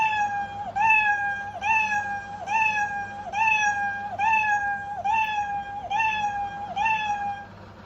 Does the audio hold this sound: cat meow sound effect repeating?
yes